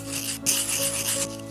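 Sandpaper rubs against a small handmade miniature bowl in a close, continuous scratchy rasp with slight strokes and pressure changes and a steady hum underneath.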